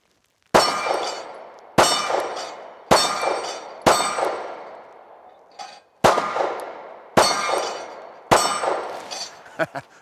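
A 9mm Springfield XD-S Mod.2 OSP pistol fires seven loud, sharp shots at a swinging 4-inch steel plate. Each shot rings with a metallic clang that decays before the next, at a steady, fairly quick pace with no talking.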